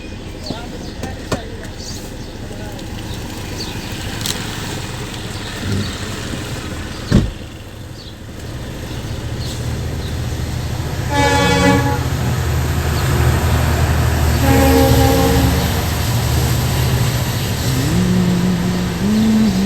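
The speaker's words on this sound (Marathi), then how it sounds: "आली ट्रेन बघा." A train pulls into a station platform, its rumble building and growing louder with a few horn-like tonal blasts over a busy background, while people talk nearby.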